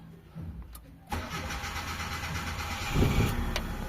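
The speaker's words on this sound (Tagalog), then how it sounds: "Tapos start tayo ng makina mga boss." A Mitsubishi Lancer engine cranks and catches just after one second, right after a fuel pump repair, then settles into a steady close idle with a brief rev near the end.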